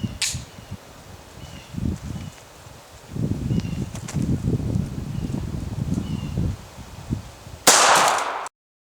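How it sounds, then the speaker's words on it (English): A 9x18 Makarov pistol fires a Critical Defense 95gr FTX round into ballistic gel: a single loud, sharp blast near the end, preceded by several seconds of soft rustling and handling noise outdoors. "Let's get it shot through the gel and see how it works."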